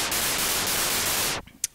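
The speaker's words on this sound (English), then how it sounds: "under oscillator, I have chosen noise under the wave. So that means it's going to play noise." A Woovebox synthesizer playing its noise oscillator: a steady, loud wash of broadband hiss that cuts off abruptly, followed by a brief faint click.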